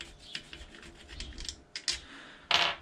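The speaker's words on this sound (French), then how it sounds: "là, on va démonter les vis de la partie d'embrayage. On va dévisser toutes les vis." Clutch cover screws being undone on an AM6 moped engine with a hand tool: close, quiet ratcheting and scraping clicks with a louder grinding burst near the end, no talk.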